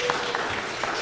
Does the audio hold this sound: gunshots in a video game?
no